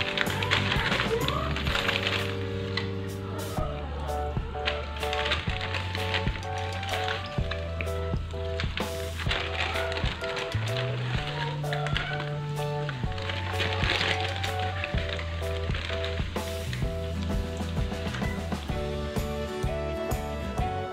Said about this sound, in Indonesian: Sambil mau aku goreng lagi donatnya